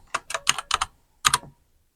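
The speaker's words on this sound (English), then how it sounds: "So I type the password again" Close, crisp keystrokes on a computer keyboard as a password is entered, a quick run of five taps followed after a short pause by two more.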